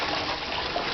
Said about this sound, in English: add it into the mash tun